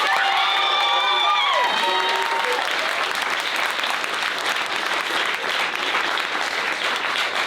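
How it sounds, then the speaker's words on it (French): A crowd at a lycée music concert breaks into loud, sustained applause with some cheering, while a fading instrumental note rings out under the opening claps. "donc on peut l'applaudir très fort."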